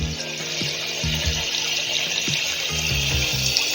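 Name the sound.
water being splashed up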